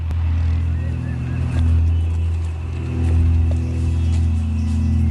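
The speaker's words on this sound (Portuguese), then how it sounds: "os motores do hovercraft alertam as pessoas" Hovercraft engines droning as a drug enforcement unit moves in toward jungle cocaine labs, a loud steady low-pitched roar with a constant mechanical hum, continuous throughout.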